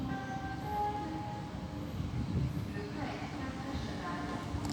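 A train pulling into Paris-Saint-Lazare station, with a low rolling rumble and faint metallic squeals under a station loudspeaker announcement.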